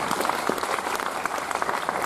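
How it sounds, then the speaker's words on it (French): A steady patter of audience applause at a card magic show, many hands clapping at once, moderately loud and sustained throughout. "On peut l'applaudir bien fort."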